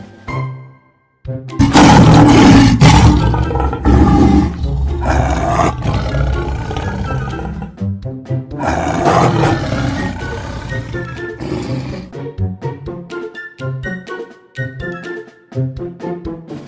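A tiger roars repeatedly, loud and close, in long rumbling bursts that fade to short grunts and snarls near the end.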